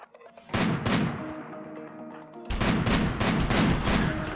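Sniper gunfire in the RimWorld video game: two loud, sharp shot bursts with echoing tails, each trailing into a rolling rattle of further fire.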